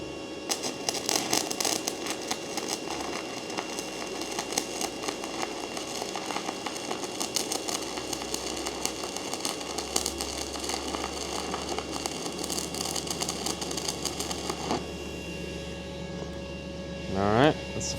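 A SEFASPE 160A stick welder burns a 1/8 inch 6011 rod, making a steady, close crackling hiss that runs almost without a break for about fifteen seconds, then stops, with a brief sound rising near the end.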